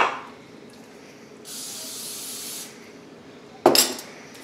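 Cooking oil spray hisses from a can onto hands for about a second, followed by a sharp, brief clatter close by; quiet kitchen room noise surrounds it.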